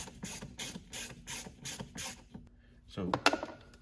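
A screwdriver backs T20 screws out of the radio head unit mount in a VW MK5, giving a close series of about six rhythmic ratcheting clicks, then a brief clatter of metal parts.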